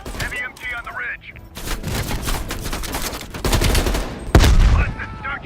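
Heavy machine gun fire rattles in Call of Duty Black Ops Cold War, with dense sustained bursts and booming hits building in loudness over several seconds, a voice briefly audible early on.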